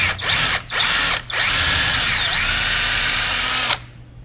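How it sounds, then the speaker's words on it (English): A power drill with a long bit bores a pilot hole through a 2x4. It revs in three short bursts, then runs in one loud sustained whine before stopping abruptly. "I just want to pilot drill through the 2x4"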